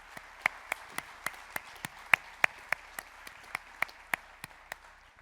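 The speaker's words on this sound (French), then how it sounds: "On peut les applaudir." A sparse audience at a conference opening speech claps for the organisers, a thin run of about fifteen distinct, evenly spaced claps in a quiet hall.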